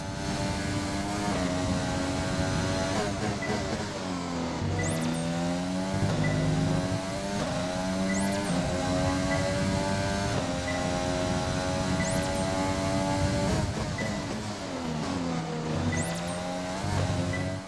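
Racing car engine in a racing video game revs hard at full throttle through a fast section, its high droning pitch climbing repeatedly with brief dips as gears shift, loud and continuous.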